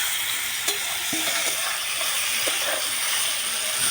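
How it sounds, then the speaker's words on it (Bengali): Half-boiled eggplant pieces fry in a pan, producing a loud, constant hissing sizzle with a few soft stirring taps. "আমি বাদ বাকি বেগুনগুলো এইভাবে ভেজে নেব।"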